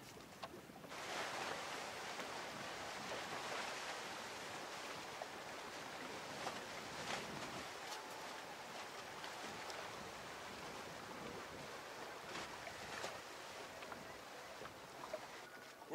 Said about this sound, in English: we're going to get some waves